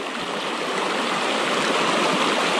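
A swollen river rushes through a forest, a loud, steady broadband roar of flowing water that holds constant throughout with no voices.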